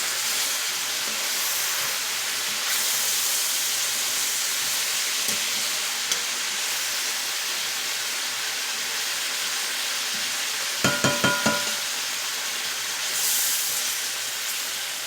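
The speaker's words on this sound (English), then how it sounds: "because we want to fry the cabbage and tenderize the cabbage." Cabbage frying in a pan with little liquid, a steady moderate hiss and sizzle that swells and fades slightly, with a few brief clatters near the end and no talk.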